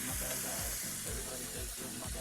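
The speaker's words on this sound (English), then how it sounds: "So I'm just going to cook it down a little bit." A green masala chicken curry cooking down in a pan, a steady close sizzle with rhythmic low stirring thumps and no voices.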